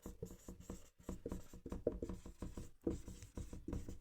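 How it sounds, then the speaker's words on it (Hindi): A teacher writes out a translation by hand during a grammar lesson, the pen or chalk scratching in quick, busy strokes with short pauses between words, close and fairly loud. "मैं लिख रहा हूँ यहाँ पे एक ट्रांसलेशन लिख रहा हूँ"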